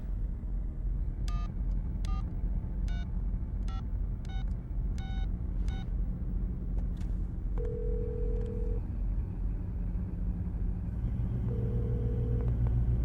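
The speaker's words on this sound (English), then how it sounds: "Dial your number." A telephone number being dialed as a steady string of about eight evenly spaced touch-tone beeps over a constant low rumble, followed by two longer single tones.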